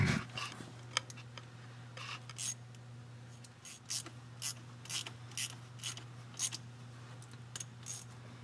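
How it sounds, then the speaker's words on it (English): A 1/4 inch drive ratchet turning on the PTU plug of a 2014 Ford Explorer gives quiet, spaced metallic clicks, with short bursts of ratcheting heard close up over a low steady hum. "I'm going to use a 1/4 inch drive ratchet on there"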